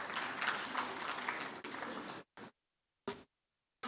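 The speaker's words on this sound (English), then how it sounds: "Can we please have a round of applause for Dr." Audience applause at a leadership and strategy dialogue event, a dense burst of clapping that breaks off abruptly, followed by silence and short choppy fragments of the same applause.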